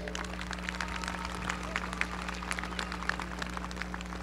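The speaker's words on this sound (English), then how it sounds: "Let's give them a round of applause." A crowd claps steadily in a large room, sustained applause with a constant low hum underneath.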